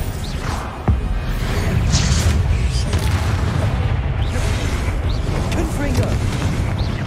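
Confringo blast spells go off in the Hogwarts Legacy video game, loud booming explosions layered with whooshing and crashing over a dense rumbling bed, with a sharp hit near the first second and a voice talking throughout.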